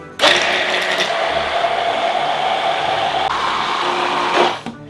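A kitchen blender ("machine miracle") premixes sriracha sauce with oil, running as one loud continuous whirring whine for about four seconds before it cuts off.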